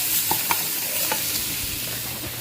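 Onions frying in a pan for hamburger soup, giving a steady close sizzle with a few light scrapes and taps of stirring, no talking.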